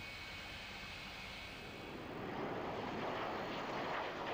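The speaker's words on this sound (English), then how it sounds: "here it is, the wonderful sight of the Hunter taking off" A Hawker Hunter jet takes off at the RIAT 2001 air show at RAF Cottesmore, a distant engine roar building into a louder, broad rushing rumble partway through.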